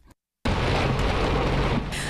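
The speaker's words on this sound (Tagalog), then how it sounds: "bahagyang maririnig ang pagtama ng maliliit na puting yelo sa bubong at semento sa labas ng kanilang bahay" Small hailstones hit a house roof and concrete outside during a hot-season hailstorm in the Philippines, making a dense, loud, continuous roar of impacts after a brief silent gap.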